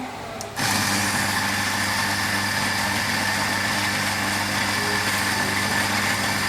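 An MDXS grinder with touch screen and stop-and-go feature starts grinding after a brief quiet lead-in, then runs as a loud, steady motor whine with constant hum through to the end.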